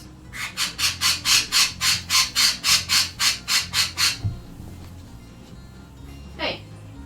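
A pet bird squawks loudly and repeatedly, around fifteen harsh calls in an even, fast rhythm right next to the listener, then stops and a single brief squeal follows.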